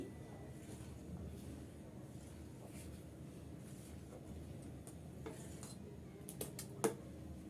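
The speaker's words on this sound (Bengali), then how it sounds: "আর অনবরত নেড়ে চেড়ে আমি ভালো করে মিক্স করে নিচ্ছি" Mango puree is stirred continuously into a homemade ice cream mix, giving soft, quiet scraping and light clinking of a utensil against a bowl, with a few sharper taps near the end and no talk.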